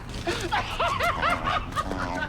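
A puppy in a TV show gives a run of high yips and whimpers at moderate volume, with voices faint underneath.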